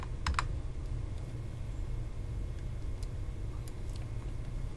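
Keys tapped on a computer keyboard while entering a numeric value in 3D drawing software, a few quick light clicks near the start and more scattered taps later, faint over a steady low room hum.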